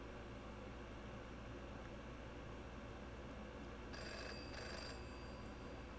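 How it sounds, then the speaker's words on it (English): A phone rings in a visual novel game, a short electronic ring burst heard twice near the end over a steady background hum of game music. "Ring, ring! A loud noise jolted me awake. It was the phone."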